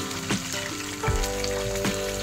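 Garlic frying in hot oil, a close crackling sizzle with spoon knocks against the pan, jumping louder after about a second as more hits the oil, no speech.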